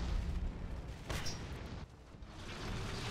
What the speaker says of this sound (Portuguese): olha o tanto de bomba caiu